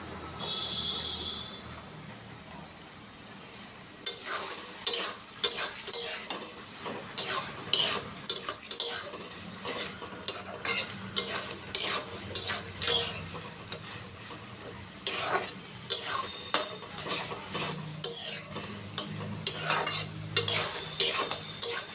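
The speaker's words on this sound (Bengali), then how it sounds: "এইভাবেই পেঁপেটাকে ভালো করে কষিয়ে নেব।" Papaya stirred and sautéed in a pan, a metal spatula clacking and scraping against the pan in a quick repeated rhythm over a soft sizzle, beginning after a few quiet seconds.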